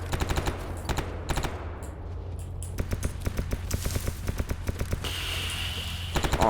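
Enemy gunfire in the video game Escape From Pripyat: rapid, sharp bursts of automatic shots in quick uneven rhythm over a steady low hum, growing denser toward the end.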